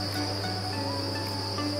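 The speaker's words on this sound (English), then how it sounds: "Have a look at all those crickets." Crickets in a breeding bin of soil chirp in a dense, continuous chorus, a steady shrill trill close by over a low hum, with no talk.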